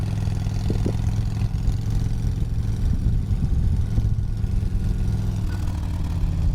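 Steady low rumble of a Harley-Davidson Fat Boy motorcycle engine running on an expressway, close and continuous with slight throttle variation, no talk over it.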